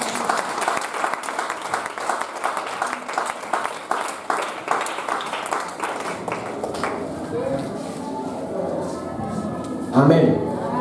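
A church congregation applauds with brisk, rhythmic clapping for several seconds, then the clapping thins out as a voice speaks over the crowd.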